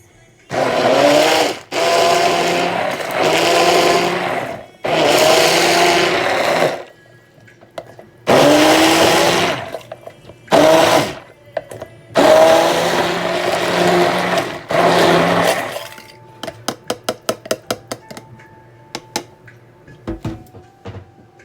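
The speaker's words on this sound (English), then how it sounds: "We're gonna use our handy dandy wand and we're gonna blend it." An immersion blender wand whirs in loud bursts of a few seconds each while blending a Coca-Cola chicken sauce, stopping and restarting about six times, followed by a series of rapid light clicks.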